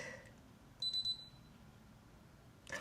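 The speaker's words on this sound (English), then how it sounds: "Right after the beep." A short electronic beep, a high, clear tone repeated in a quick cluster of pulses, rises alone over a quiet background.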